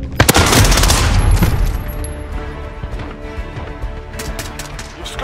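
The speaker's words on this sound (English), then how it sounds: "we're taking some fire" A sharp burst of rapid gunfire in Call of Duty Modern Warfare fills the first second, then fades to scattered distant shots and cracks with a faint ringing tone over a quieter battlefield.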